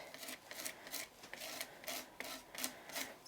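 Gel medium scraped across a stencil, giving repeated rhythmic rasping strokes, about eight even passes, quiet and close with no talk.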